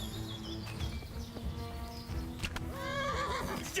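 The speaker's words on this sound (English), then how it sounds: "You just shoot my horse!" A horse in the game Kingdom Come: Deliverance whinnies loudly near the end, preceded by clip-clopping hooves and faint birdsong, close and clear.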